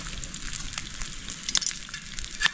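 Oil sizzling on a hot cooking stone outdoors in a forest while an egg omelette is prepared, a steady close crackle with scattered sharper pops.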